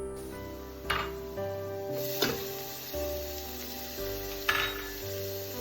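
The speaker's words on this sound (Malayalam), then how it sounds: "വെളുത്തുള്ളി ഒന്ന് വഴന്നു വരുമ്പോൾ ഇഞ്ചി ചെറുതാക്കി അരിഞ്ഞത് ചേർക്കാം." Garlic and finely chopped ginger sautéing in a pan: a quiet, steady sizzle broken by a few sharp clinks of a utensil against the pan, close and without speech.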